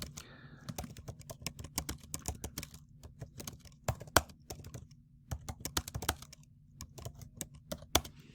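Someone types on a computer keyboard in quick bursts of close, crisp key clicks separated by short pauses, with faint talk in places.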